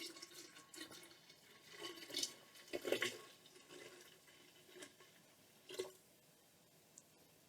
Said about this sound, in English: I'm going to do the fancy pour.